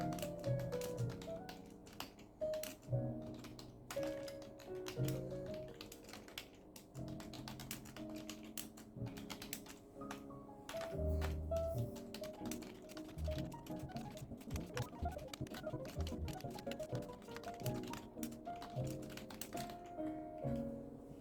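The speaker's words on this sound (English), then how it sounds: "So why not we go back and try again the membrane keyboard" Fingers typing on a membrane keyboard: soft, dense, uneven key taps in quick runs with short pauses, close and fairly quiet, no talking.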